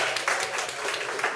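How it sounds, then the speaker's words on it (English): Audience applause at a poetry reading in Dumfries, a steady patter of many hands clapping throughout the short stretch at moderate level, without talk. "I'd like to give her a warm round of applause"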